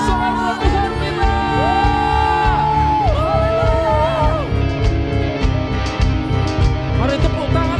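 A church congregation at an anniversary Sunday service cheers and shouts in praise over loud, sustained worship music, with whoops and voices rising above the steady band throughout.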